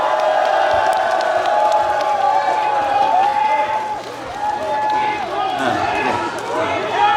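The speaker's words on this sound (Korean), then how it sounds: "우리 응원의 박수 한번 쳐줍시다" Crowd at an outdoor campaign rally in a market in Changwon, South Korea, applauding and cheering loudly, with clapping mixed under amplified chanting voices and a rally announcer's speech throughout.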